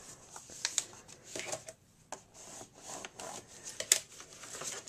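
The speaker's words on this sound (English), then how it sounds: "so I'm going to fold this up." A paper pop-up Christmas card cut on a Cricut being folded, with soft rustling, rubbing and crisp creasing sounds in short irregular bursts, close up and quiet.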